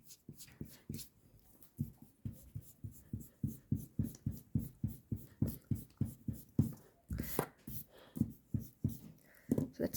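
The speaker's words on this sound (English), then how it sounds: "Let me erase all of this." Rhythmic back-and-forth rubbing of an eraser across a drawing board, a steady series of short scuffing strokes at close range, speeding up toward the end.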